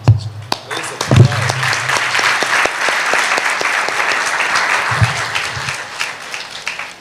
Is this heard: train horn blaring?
no